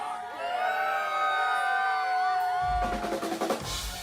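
Crowd cheering in a livestreamed crowd shot: sustained tonal voices and music give way to a loud burst of broadband cheering and shouts in the final second or so.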